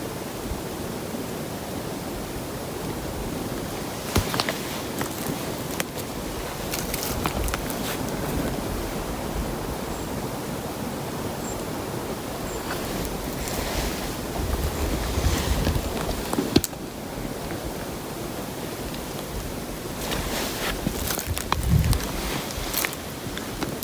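Wind blows steadily outdoors during a solo muzzleloader deer hunt, a broad constant rushing with occasional stronger gusts and faint rustles.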